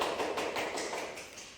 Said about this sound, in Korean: 역시 소수 정예 박수 소리 잘 들리시죠?